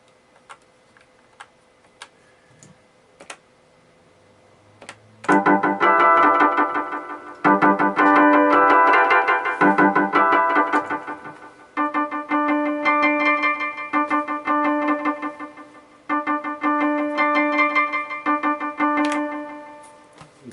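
Yamaha Electone HS6 organ playing a saved user voice, bright sustained chords in steady bursts after a few soft clicks, loud and close, with no talking.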